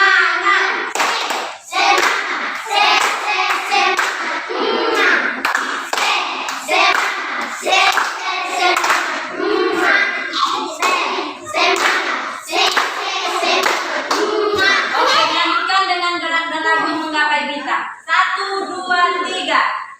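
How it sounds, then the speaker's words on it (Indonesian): An elementary school class claps out the rhythmic 'tepuk semangat' cheer, sharp patterned hand claps close by, broken up by children's chanting and voices throughout. "Kita lakukan tepuk semangat."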